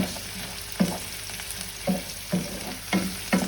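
Ackee, corn, pork and Scotch bonnet pepper sizzle steadily in a pan, with a spoon stirring them around in soft scraping strokes about every half-second over the constant frying hiss.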